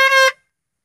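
A motorbike horn gives one short, loud, harmonic honk, then cuts off abruptly into silence.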